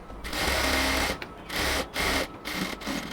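A sewing machine stitches the border of a baby's short pants in quick rattling runs, several bursts stopping and starting with short pauses between, loud and close.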